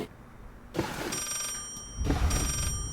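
A telephone rings in the horror video game Layers of Fear, two moderately loud bursts of ringing separated by a pause, with a sustained tonal hum in between.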